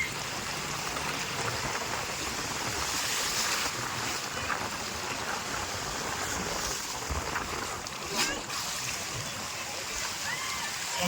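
Heavy flood water rushing through the open gates of Srisailam dam, a loud continuous broadband roar with wind, steady and unbroken throughout, heard from a bridge nearby.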